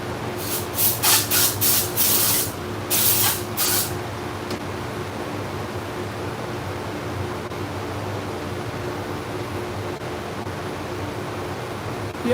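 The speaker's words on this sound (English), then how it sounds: "All right, I gotta go use my air compressor." An air compressor nozzle blows cleaning bursts onto salon shears: several short sharp hissing blasts up close, then quiet room noise.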